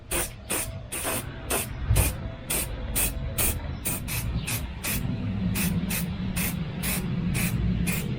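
Spray paint is applied to Honda CR-Z taillight overlays in a rapid series of short, close hissing bursts that later merge into a steadier, continuous spray.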